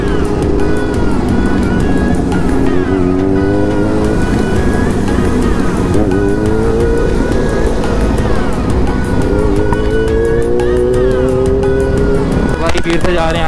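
A Kawasaki Z1000 superbike revs hard during a burnout, its engine note surging and climbing in pitch in repeated loud waves, close by and continuous.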